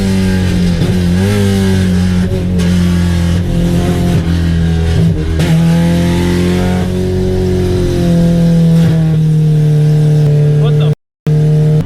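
A 10-second Honda Civic drag car on a road course with its throttle stuck, the engine droning loud and close at high revs with wavering pitch throughout, a voice talking over it and a momentary dropout near the end.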